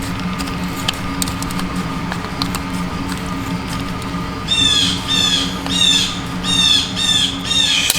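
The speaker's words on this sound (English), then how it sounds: "Shut up, Blue Jays." Blue jays squawk outdoors during an Altima tire change, a run of loud harsh repeated calls in the second half over a low steady background hum, fairly close.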